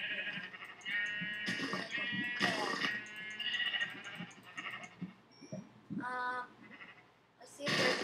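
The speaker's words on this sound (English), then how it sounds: "Let's see if there's enough sheep." Sheep bleat repeatedly in the video game Minecraft, several nasal calls rising and falling over eight seconds, some overlapping, with a quiet game background.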